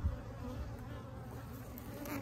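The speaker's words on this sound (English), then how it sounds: "Oh, lots of bees in there." Bees in a hive drone in a dense, steady, close buzz that fills the short stretch without a break, with no voices.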